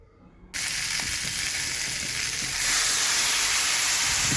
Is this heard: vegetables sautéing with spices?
yes